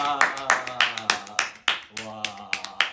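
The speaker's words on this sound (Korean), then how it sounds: "박수!" Two young K-pop idols clap close to the microphone during a casual live stream, with sharp, fairly regular claps mixed with their overlapping voices and exclamations.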